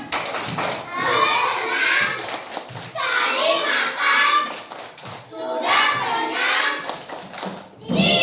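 Schoolchildren in a classroom perform the 'tepuk ikan' clapping chant, their voices rising in three loud bursts of chanting with sharp hand claps between, close and lively.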